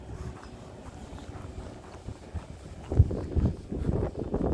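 Biting cold wind gusts outdoors in winter, a low rumbling buffet against the microphone that strengthens into heavier, louder bursts in the second half.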